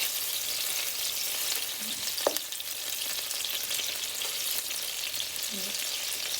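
Meatballs fry in a pan with a steady, close hiss, broken by a couple of soft clinks and shifts as they are flipped partway through; no one speaks.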